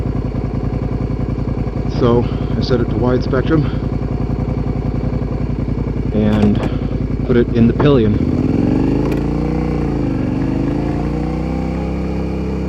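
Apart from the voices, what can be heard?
motorcycle engine running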